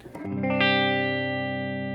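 A single chord rings out on a clean electric guitar, sustaining smoothly with a soft reverb tail and slowly decaying.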